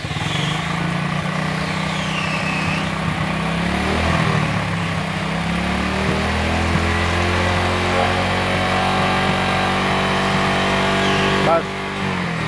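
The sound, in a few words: Hero motorcycle engine revving with throttle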